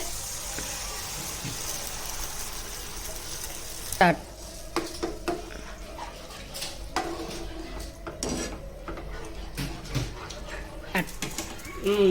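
Eggplant for a curd chutney cooks in hot oil, a soft sizzle at first, then clattering utensil knocks, scrapes and pan clinks dominate intermittently after a sharp clank.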